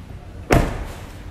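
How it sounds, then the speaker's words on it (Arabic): A car door on a gold-edition Chevrolet Silverado slams shut once, a single loud, close thud that fades quickly into quiet background hum. "خلينا نقفل الباب عشان"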